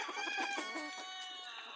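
Chicks in a poultry flock cluck and peep in a quick, overlapping jumble of high calls, fairly close and moderately loud, with several birds sounding at once.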